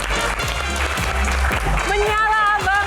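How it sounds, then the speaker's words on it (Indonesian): Studio audience clapping as guests arrive on an Indonesian talk show, moderately loud and steady, mixed with music and a voice carrying melodic tones over the clapping toward the end. "Tepuk tangan dong"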